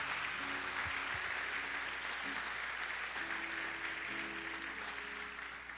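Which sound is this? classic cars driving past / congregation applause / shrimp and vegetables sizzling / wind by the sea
congregation applause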